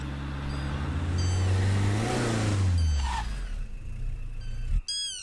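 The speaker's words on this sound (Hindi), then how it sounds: "गाड़ी साइड में लगा।" A car engine hums loud and close, then winds down as the vehicle slows and pulls over to the roadside, ending in a sharp stop; birds chirp faintly around it.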